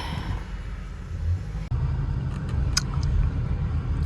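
A car drives along a road, giving a steady low rumble of engine and tyre noise from inside the vehicle, with a brief dropout partway through and a few faint clicks.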